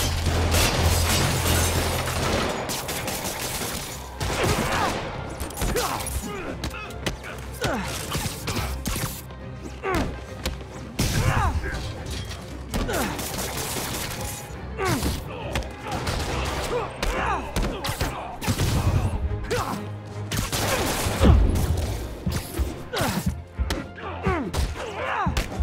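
Gunfire and impacts crash through a fight in Marvel's Spider-Man Remastered, with repeated sharp bursts, thuds and smashes spread across the scene, loud and busy, mixed with game voices and music.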